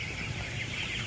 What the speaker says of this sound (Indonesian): ayam langsung pada makan